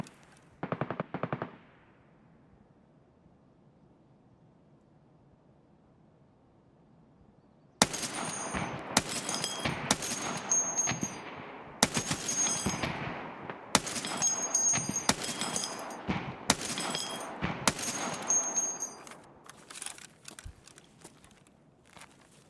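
Gunfire in the video game Singleplayer Tarkov: a brief early burst, a quiet stretch, then sustained sharp volleys of automatic shots and single cracks, loud and close.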